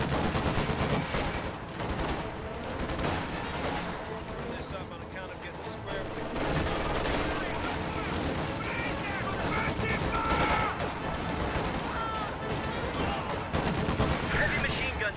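Heavy machine gun fire in a video game roars as a dense, sustained barrage of rapid shots mixed with other battle noise, loud and continuous throughout, with a voice faintly in the mix.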